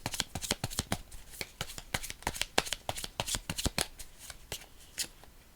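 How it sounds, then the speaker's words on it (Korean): Tarot cards being shuffled and drawn, a rapid run of crisp riffling snaps and flicks, close and fairly quiet, with no talk over them. "일단 추가 카드 뽑으면서 리딩 시작할게요"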